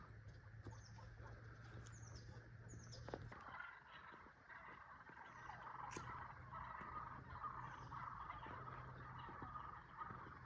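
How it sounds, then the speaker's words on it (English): Wild turkeys gobble in the distance in a California gold rush town, several bursts scattered across a steady outdoor hum with occasional chirps. "See if I can get them to gobble over here."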